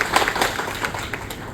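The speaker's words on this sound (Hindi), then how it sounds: "तो इसी बात पे सर के लिए एक बार जोरदार तालियां।" An audience at a waste segregation workshop on a zero-waste campus gives the guest a round of clapping, a dense, close, fairly loud burst of many hands that thins slightly toward the end.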